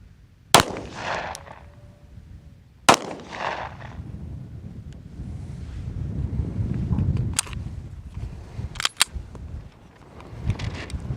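A handgun is fired one-handed, strong hand only, in slow deliberate fire at a 10-yard outdoor range. A few sharp, loud reports come widely spaced, with a near-silent pause after one and a low wind rumble in between.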